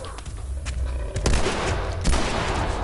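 Gunfire in the video game The Last of Us Part 2 comes as dense, rumbling bursts of shots close together, loud and continuous over the short stretch.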